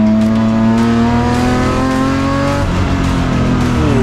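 BMW race cars in an M Performance Parts race series at Zwartkops, heard up close with loud, continuous engine drones that rise and fall as the cars pass and accelerate along the track.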